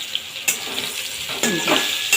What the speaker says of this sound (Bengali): হালকা করে ভেজে তুলে নেব দেখুন পেঁপেটা কি সুন্দর রং ধরে গেছে